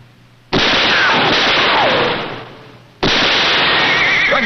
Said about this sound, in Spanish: Le haré un disparo en la pierna para que sepa lo que se siente.